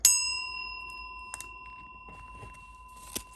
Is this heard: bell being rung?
yes